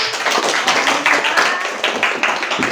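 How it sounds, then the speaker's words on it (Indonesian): A class clapping together indoors at the end of a lesson, a brisk burst of applause with some voices mixed in, close and fairly loud. "tepuk tangan untuk kita semua"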